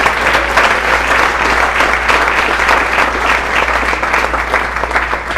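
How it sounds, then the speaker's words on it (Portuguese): Dense, sustained applause from a church congregation during a worship service, steady and loud throughout with no pauses. "Vamos aplaudir a presença de Deus."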